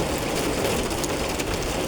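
Heavy rain makes a constant, loud hiss close by, with no voices.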